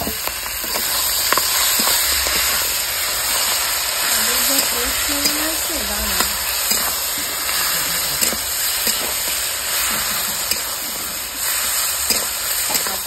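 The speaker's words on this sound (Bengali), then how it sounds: "তেলটা দিয়ে দিচ্ছি মাছের মাথার জন্য, ভালো করে গরম হয়ে গেছে। এবার মাথা দুটো ফেলে দেবো।" Two fish heads dropped into hot oil in a village kitchen, a steady loud sizzle and hiss that runs throughout with small crackles, and a voice speaking briefly over it.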